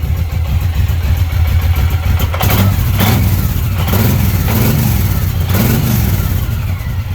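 A stock 2014 Suzuki Boulevard M109R B.O.S.S. edition cruiser motorcycle engine idles with a deep, loud rumble, then revs up and falls back in several close, throaty swells.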